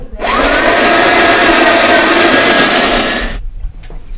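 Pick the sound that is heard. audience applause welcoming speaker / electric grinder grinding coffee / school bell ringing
electric grinder grinding coffee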